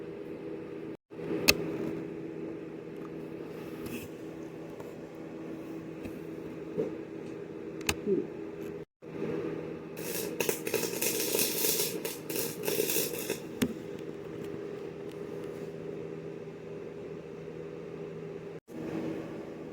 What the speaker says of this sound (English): here he is doing some welding through a welding helmet is what you're looking at